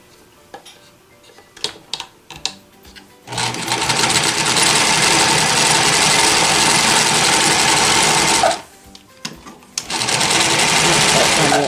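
A Janome L 393 sewing machine stitches in loud, steady runs of several seconds, with clicks and short ticking bursts between stitching runs and a pause before it starts stitching again.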